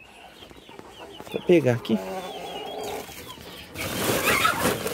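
Chickens in a farmyard clucking and squawking close by, a burst of busy bird calls in the middle, with a person speaking briefly and rustling noise toward the end.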